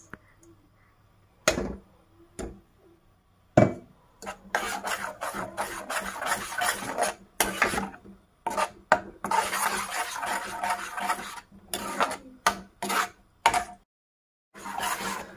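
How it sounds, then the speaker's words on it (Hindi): Gravy for paneer kofta being stirred in a pan over high flame, repeated rasping scrapes in bursts of strokes with short pauses between, close and fairly loud, no talking. "हाणे इनखे असांखे 1 खां 2 मिनट ईअं घुमाइणो आहे थोरो असांजी ग्रेवी मिक्स थी वञे पाण में"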